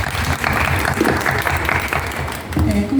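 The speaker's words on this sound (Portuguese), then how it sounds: "Palmas para ela, gente." An audience applauds in a hall, a steady, moderately loud patter of many hands that carries on for a few seconds, with a voice briefly speaking near the end.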